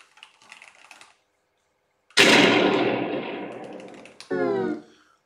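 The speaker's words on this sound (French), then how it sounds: "dès que ça fait le bruit de fusil, là, il faut vite appuyer sur entrée" A gunshot sound effect in a typing program game: a single sharp, loud blast with a long decaying tail, followed by a brief rattling burst, with faint key taps earlier and no talking.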